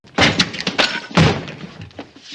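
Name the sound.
loud blow and wooden door bursting from frame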